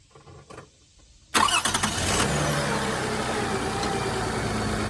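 A 2006 Toyota Highlander 3.3-liter engine cranks and catches with a sharp burst after a quiet stretch, then settles into a steady, loud idle that runs on unbroken.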